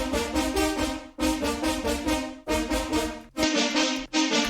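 Bright, brassy horn staccato synth chords stab in short repeated phrases, thick and layered, with brief gaps between bursts and no voices.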